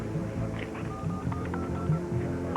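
A telephone number is dialed on a phone in an office setting, giving a quick run of short touch-tone beeps of varying pitch over a steady background hum, with no talking.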